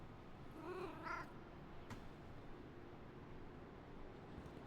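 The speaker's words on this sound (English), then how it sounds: "where's the cat? I heard it in this direction," A cat meows in the survival video game Obenseuer, two short rising calls early on against a steady windy ambient bed, followed by quiet background hum.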